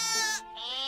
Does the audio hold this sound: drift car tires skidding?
no